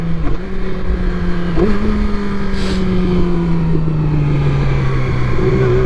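A Yamaha R6 sport motorcycle revs hard and pulls away, its engine note climbing and shifting through loud gear changes, with heavy wind rush over the microphone and no talking.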